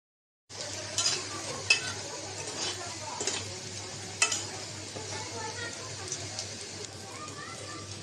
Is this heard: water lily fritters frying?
yes